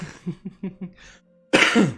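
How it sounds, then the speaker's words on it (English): A quick run of four or five short, close coughs, then a pause and a louder harsh throat-clearing cough. "I do still have a cough"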